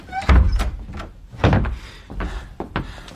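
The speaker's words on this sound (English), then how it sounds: "let me close the door." An office door being shut during a radio drama scene, with several loud, close thunks and bumps in an uneven sequence.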